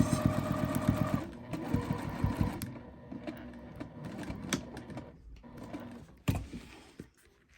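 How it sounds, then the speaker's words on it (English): A sewing machine quilts down the points of a tote bag in rapid stitching runs, stopping and starting between bursts with small clicks and handling sounds, fairly close and moderately quiet. "now I'm just quilting down the points"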